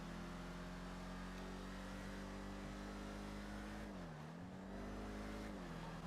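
A car drives past in a GTA roleplay video game: a loud, steady engine tone that dips in pitch midway, then climbs back as the vehicle revs on.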